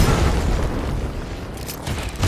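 A grenade detonates in Helldivers 2, a loud deep boom that fades into a low rumbling tail, with no talking.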